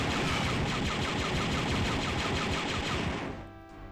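Rapid, continuous turret gunfire in the shooter game Star Wars: Dark Forces Remaster, a dense loud barrage of shots that runs unbroken and then tapers off near the end.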